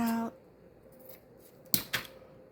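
Scissors cut out a piece of paper for a craft ephemera project, two quick crisp snips close together after a quiet stretch, fairly faint and close.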